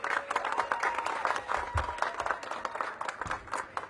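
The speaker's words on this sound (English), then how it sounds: "a big round of applause." Faint, dense applause from an audience at a mayoral press announcement, heard as a continuous patter of many hands clapping at a distance.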